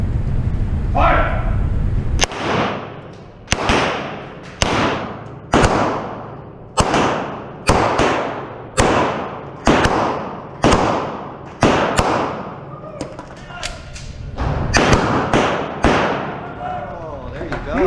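Repeated 9mm pistol shots from a Smith & Wesson M&P CORE converted from .40 to 9mm, fired one-handed at an outdoor pin match: about a dozen sharp, loud reports in an uneven rhythm, each ringing out briefly, with a few faint voices between them.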